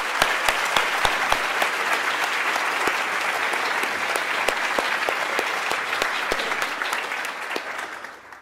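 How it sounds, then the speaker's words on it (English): Conference audience applauding, dense, lively clapping from a room full of people, steady for several seconds before tapering off at the end. "Can we get a round of applause?"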